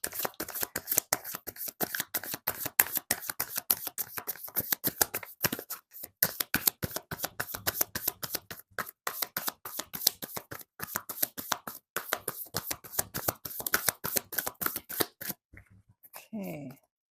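Tarot cards are shuffled close up in a long run of rapid, crisp riffling flicks, a brief pause partway through, and a soft final handling sound at the end, with no speech.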